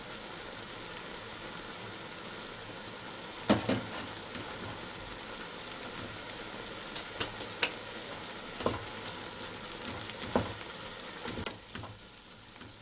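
Ingredients sizzle steadily in a hot pan as they are stirred, with scattered scraping and clicking of the utensil against the pan rising over a constant frying hiss.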